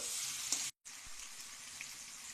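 Mango pieces fry in oil as they are stirred in a pan while making a sweet mango preserve. A soft, steady sizzle runs throughout, broken by a brief silent gap.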